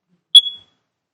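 One short, piercing high-pitched electronic beep from a smoke detector's test button rings out alone, fading quickly into silence.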